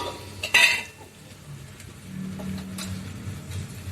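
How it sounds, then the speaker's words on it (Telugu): Carrot fry being stirred in a pan on a gas stove, with a sharp utensil clink against the pan, then soft scraping and a low sizzle. "ఈ పక్కన క్యారెట్ ఫ్రై అవుతుంది. సో క్యారెట్ ఒకసారి కలిపేసుకొని"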